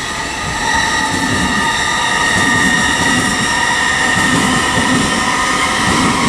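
Class 800 train pulling out of Reading station on the Great Western Main Line toward London Paddington, a loud, close, steady rumble with a high whine and light wheel squeal, no voices.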